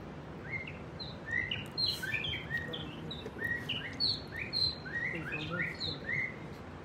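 A voice imitates a chorus of songbirds at dawn in Almaty, with many quick, high chirps and trills overlapping steadily over a low background murmur.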